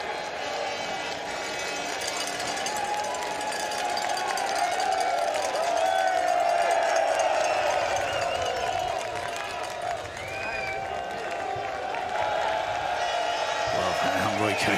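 Spectators at a women's under-23 cyclo-cross world championship race cheer, whoop and clap steadily throughout, a dense crowd roar from the course-side with a commentator talking over it.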